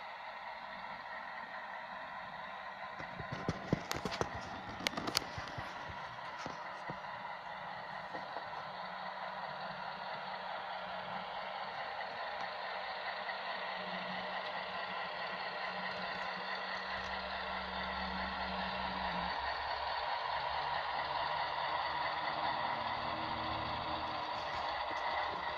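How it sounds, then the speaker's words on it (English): A steady diesel engine drone from a Bachmann Alco FA2 and FB2 model locomotive, with a rumbling low end, a few sharp clanks early on, and the engine note deepening toward the end. "that's the sound you get with the Bachmann Alco FA and FB"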